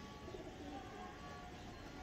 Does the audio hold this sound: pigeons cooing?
yes